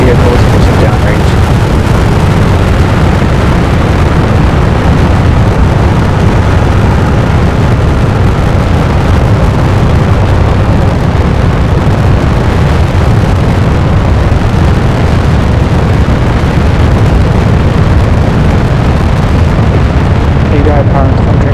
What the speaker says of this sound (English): Ignition. Liftoff. Vehicles pushing downrange.